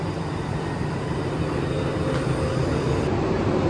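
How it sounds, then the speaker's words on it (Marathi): A steady, heavy rumble of a Duronto Express train locomotive nearby, with a low droning hum and a faint high tone near the end. "हां हा बरोबर आले वा हे इंजिन आहे"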